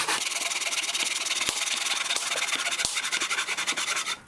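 A handsaw rasps back and forth through wood at an outdoor campfire gathering, fast rhythmic strokes loud and close with a few hard knocks, no talking over it.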